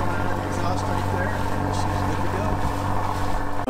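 A boat's generator runs steadily with cooling water spilling from its exhaust, a constant engine drone with watery splashing close by and no break throughout.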